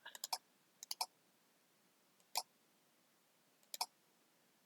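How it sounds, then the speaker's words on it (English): A computer keyboard key being pressed on a Windows PC, several crisp light clicks in small clusters spread over a few seconds, close and quiet against near silence. "I'm using the delete key on the keyboard to delete that"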